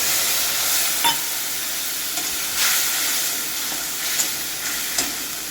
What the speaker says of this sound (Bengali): এবার এর মধ্যে দিয়ে দেব একটু জিরে ফোড়ন। পেঁয়াজটা ভাজা ভাজা হয়ে গেছে।